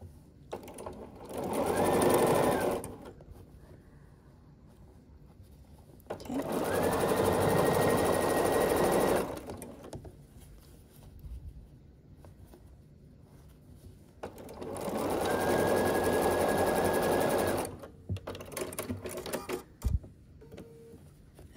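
Three separate bursts from a sewing machine, each a few seconds long, stitch quilt block units together for a scrappy sampler block. Quieter pauses between runs carry fabric handling and light clicks.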